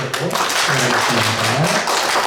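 Church congregation applauding a group of visiting guests, dense continuous clapping from many hands filling the sanctuary, loud and sustained throughout with faint voices beneath.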